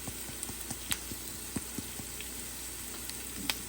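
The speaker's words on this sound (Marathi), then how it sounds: "मी प्रॉपर तेलामध्ये फ्राय करतो आणि प्रॉपर मिक्स करून घेतो" Turmeric and spices frying in oil for Maharashtrian-style zunka: a steady, fairly quiet sizzle close by, dotted with small scattered pops and crackles, with no talking.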